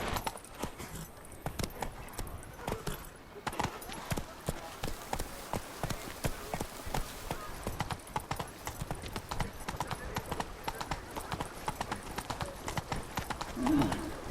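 Roach, the horse from The Witcher 3, gallops in a quick, steady run of hoofbeats that continues without a break, with a faint snort or whinny near the end.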